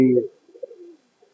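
A homing pigeon's soft, low cooing after a brief sharp onset, trailing off quietly in a mostly silent space.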